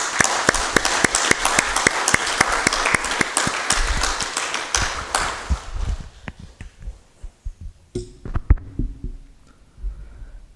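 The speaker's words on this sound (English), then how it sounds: "Let us give him a big applause." Audience applause at a Won Buddhist Sunday service, steady dense clapping for about six seconds that thins out into scattered claps and fades, with a few louder thuds near the end.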